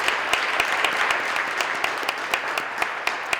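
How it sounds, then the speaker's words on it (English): Audience applause at a campus career and technical commencement ceremony, a steady dense wash of many hands clapping with occasional sharper individual claps standing out. "Let's give them all a big round of applause."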